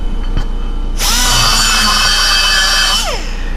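A rotary bit grinds the aluminum intake port of an LS 5.3 cylinder head: a loud, high-pitched whine spins up sharply, holds steady for about two seconds, then winds down. No talking is heard.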